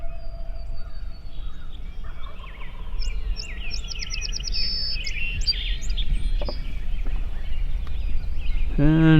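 A wild turkey gobbling far off at dawn on a calm, windless Pennsylvania spring morning, faint rattling gobbles set among nearby songbird chirps and tweets.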